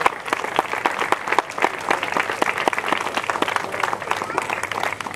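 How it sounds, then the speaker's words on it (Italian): A crowd at an outdoor festival concert claps for a symphonic town band, a steady, lively wash of many hands with voices murmuring underneath. "un altro applauso dobbiamo farlo anche alla banda di San Perniceto"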